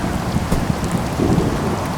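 Steady rain pours down in an animated cartoon, with a dense, even hiss and scattered drop patter throughout.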